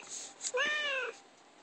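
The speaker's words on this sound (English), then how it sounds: "Cat." A toy laptop plays a single recorded cat meow, short and rising then falling, faint and fairly close, set against quiet room noise.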